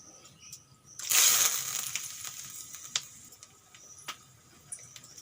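Whole garam masala and a bay leaf drop into hot oil in a wok, giving a sudden loud crackling burst that fades into a softer sizzle with scattered pops.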